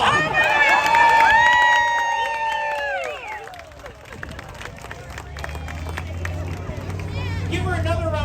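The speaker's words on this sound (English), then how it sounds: "Give her another round of applause" Crowd at a beach clean-up day raffle on Fort Myers Beach breaks into cheering and applause; loud whoops and shouts fill the first few seconds, then settle into a lower murmur of clapping and chatter.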